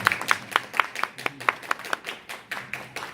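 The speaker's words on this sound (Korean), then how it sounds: "여러분 수고한 손길에 마음에 한번 박수 좀 쳐주실까요?" Church congregation clapping in a fairly sparse, rhythmic pattern of distinct hand claps, sounding like a modest group rather than a large roaring crowd.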